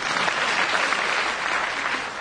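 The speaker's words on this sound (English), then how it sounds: "applause. Do it again." Studio audience applause, a dense steady wash of clapping that fills the short stretch at even loudness with no voices over it.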